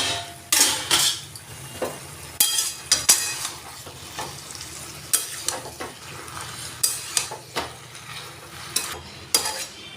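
Mixed vegetables are stirred in a covered pot with a metal spoon, sharp scraping clanks recurring every second or so over a soft underlying sizzle, close and clear with no talking.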